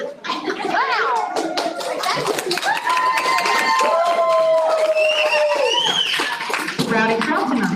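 A rowdy crowd at a school board meeting cheering, with a steady wash of applause and clapping under excited voices and children's whoops, sustained and close throughout.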